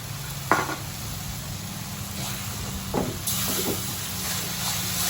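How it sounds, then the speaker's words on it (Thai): Tamarind juice is ladled into a pot of sizzling curry paste for old-style Thai khanom jeen nam prik, giving a soft splash and then a steady hiss of frying, with occasional stirring scrapes close by. "ก็ใส่น้ำมะขามเปียกครับ"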